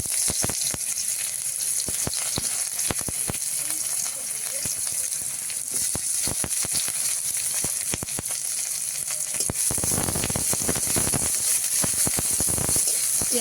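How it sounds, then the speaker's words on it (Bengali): Chopped onion, garlic and slit green chili fry in oil in a wok, a constant bright sizzle with frequent crackling pops and occasional stirring. "কড়াইতে একটু তেল দিয়ে দিচ্ছি, দিয়ে দেবো একটু পেঁয়াজ রসুন কুচি,"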